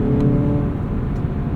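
A 2026 Mazda CX-30 2.5S engine revs under load, a steady loud droning hum with layered harmonics heard from inside the cabin, with no talking.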